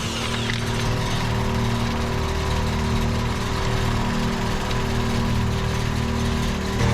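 A broken-down truck engine running steadily on added fuel with a weak fuel pump, a loud, close, even drone with no talk over it.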